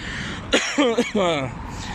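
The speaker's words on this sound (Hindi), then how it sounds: "मुझे खांसी लग गई है जी।" A person coughs a few times in short harsh bursts, close up, mixed in with speech.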